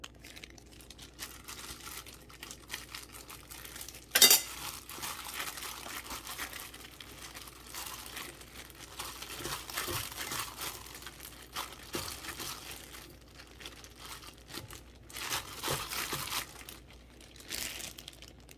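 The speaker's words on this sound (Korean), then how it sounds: "맛있게 무쳐보겠습니다" Soft crinkly squishing and rustling of seasoned jichingae wild greens being mixed by hand with garlic and sesame oil, with one sharp crackle near the start. Quiet, close and irregular, no voices.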